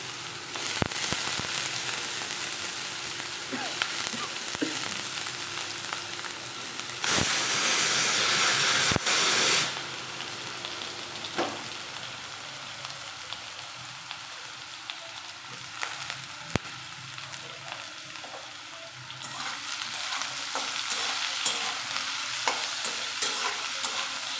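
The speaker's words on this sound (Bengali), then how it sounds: "এর মধ্যে কুচানো আলুগুলো দিয়ে ভালো করে ভাজবো।" Chopped potatoes fry in a pan for a vegetarian ghugni, a steady sizzle and hiss with a loud burst of steam partway through and intermittent scraping stirs, no voices.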